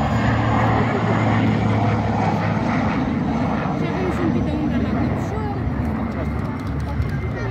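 A helicopter's loud, continuous rotor and engine roar drones overhead for the whole stretch at an air show, with voices talking faintly underneath.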